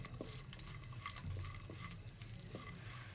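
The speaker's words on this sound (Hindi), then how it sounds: "इनको 1 मिनट तक फ्राई करेंगे, हल्का सा इनका कच्चापन खत्म हो जाए।" About 25 grams of cashews fry in hot ghee for suji halwa, a faint steady sizzle with occasional soft stirring scrapes throughout, close up and without talk.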